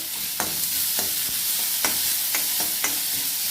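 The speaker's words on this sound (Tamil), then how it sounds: "சேர்த்துட்டு ரொம்ப நேரம் வதக்க வேண்டாம் சும்மா லேசாக அப்படி பண்ணால் போதும்" Added ingredients briefly sautéed in a pan, a steady sizzle broken by several sharp scraping stirs of a spoon at irregular intervals, close and clear with no talk.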